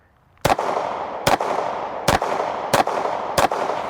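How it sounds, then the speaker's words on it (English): Five sharp, loud gunshots fired at a target from a gun with a mounted optic, spaced evenly about a second apart, each with a crisp crack and a short echoing decay, with no voices. "So right now, I'm gonna shoot the one that is to my right side on the bottom right."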